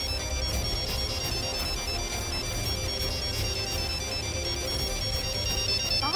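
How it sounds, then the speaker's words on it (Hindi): A phone ringtone plays continuously, a repeating electronic melody with steady tonal pulses at constant loudness over a faint room background, and no one speaks. "बेल बज रही है।"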